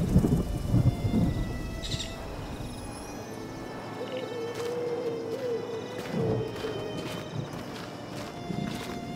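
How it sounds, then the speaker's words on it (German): A thunderstorm with steady rain, deep rumbles of thunder rolling at the start and again midway, with the rain hiss continuing throughout. "Und Schutz vor dem Sturm."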